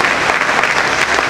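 A church congregation claps together in thanks, a short, loud and dense burst of applause filling the space.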